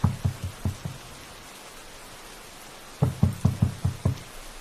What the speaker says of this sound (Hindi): जोर जोर से उस दरवाजा को खटखटाने लगा